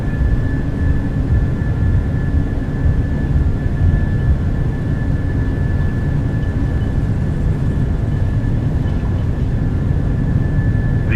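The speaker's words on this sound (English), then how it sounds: "Takeoff power is set." PMDG 737-800 airliner on its takeoff roll in Microsoft Flight Simulator, with a loud, steady low jet engine roar and a thin high whine throughout, unbroken and without talking.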